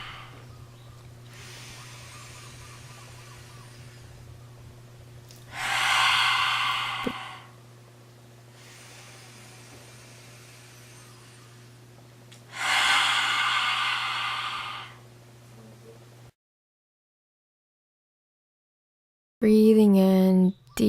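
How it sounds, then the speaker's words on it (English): Deep guided breathing in a relaxation ritual: a long inhale followed by a forceful open-mouth exhale, repeated twice as broad breathy rushes over a steady low hum, then a short burst of sound after a silent gap. "Now we're going to do some lioness breaths to really clear up the space."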